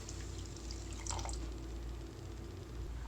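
Filtered cooking water from boiled chickpeas poured into a pan for channa masala, a faint, brief liquid trickle and splash over a low steady background hum.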